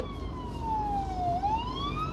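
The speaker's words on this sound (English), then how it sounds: "everywhere I go, I see fire trucks and ambulances." An emergency siren wails steadily, its pitch sliding down and then back up, fairly loud over a low rumble of road noise.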